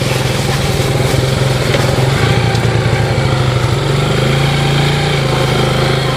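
A Yamaha Moto4 ATV engine runs close by, a loud, steady, buzzing putter with a fast pulsing rhythm that holds throughout and shifts slightly in pitch as it is ridden.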